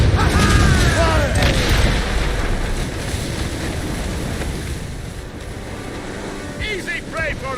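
Mortar fire strikes a sailing ship in the video game Assassin's Creed Rogue: a heavy boom amid rushing waves and wind, with shouting crew voices that fade toward the end.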